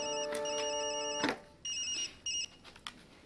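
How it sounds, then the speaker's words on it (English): A telephone rings with a bright electronic ringtone, a sustained tonal burst followed by two shorter repeated rings, clear and alone in a quiet room. "Just then, the phone rang."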